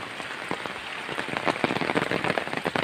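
Rain patters steadily on a surface on a farm in the Philippine countryside, with soft, scattered drops thickening into a denser shower, close and fairly quiet, with no voices.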